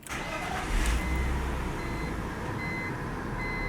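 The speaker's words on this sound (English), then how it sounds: "Let's see what a key cycle sounds like." BMW engine idling steadily through a key cycle after warming up, a low continuous hum with a faint higher whine and slight swell near the start, no talking.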